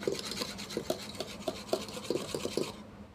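Cake batter with powdered sugar beaten by hand until foamy, a quick run of rhythmic scraping, rasping strokes close by, about a dozen beats over three seconds before stopping.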